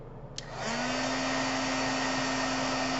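Craft heat tool switched on to heat-set embossing on a card: a small click, then a steady loud blower whir with a constant motor hum rising in and holding close, no talking.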